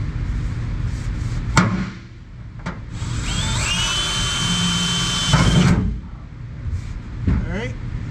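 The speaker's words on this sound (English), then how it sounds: "Now we're ready to drill our pilot hole before we go on top with the circular saw." A power drill whines steadily for a few seconds as it bores a pilot hole, with bumps and clatter before and after and a voice nearby.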